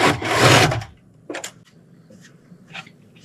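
A saw cuts off a split piece of wood during a cabin mud room addition build: one long, loud rasping stroke, then a few short, fainter scraping strokes spaced out after it.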